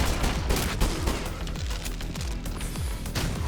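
Rapid shotgun blasts in the roguelike boomer shooter CRUEL, a dense string of loud booming shots with heavy low-end punch, close and continuous with no talk.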